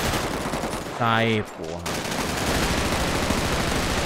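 A burst of rapid gunfire in a video game, with shots fired into the air, rattles loud and close as someone speaks briefly over it.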